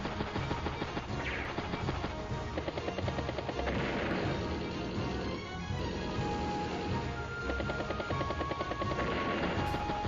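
Rapid strafing gunfire from units in the turn-based strategy game Advance Wars: Days of Ruin, dense and continuous over a busy battle soundscape with steady loudness throughout.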